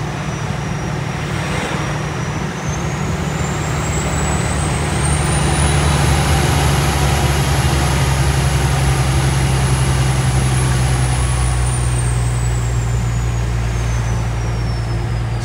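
A vehicle engine hums steadily and loudly during driving lessons, revs rising smoothly to a sustained higher pitch before easing back down, with low rumbling road noise throughout.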